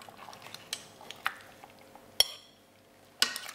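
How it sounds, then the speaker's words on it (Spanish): Serving monkfish stew with potatoes onto plates, made in a Fusiontec pot; scattered sharp clinks of dishes and utensils with soft wet scraping, close and fairly quiet. "ahora vamos a servirnos unos platos"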